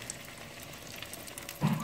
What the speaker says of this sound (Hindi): छोटे या बड़े कबाब बना के इनको फ्राई कर सकते हैं